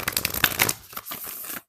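A Flower of Life oracle deck is shuffled briefly, close up, as a rapid papery riffle of cards that slows into a few soft flicks before stopping abruptly.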